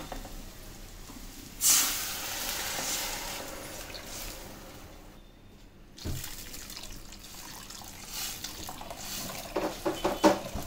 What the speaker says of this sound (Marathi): थोडंसं पाणी घालून विसळून त्यामध्ये टाकायचं.